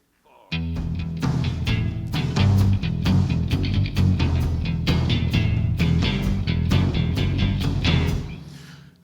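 Full band plays the riff, with heavily distorted electric guitars, bass and pounding drums, dense and loud throughout.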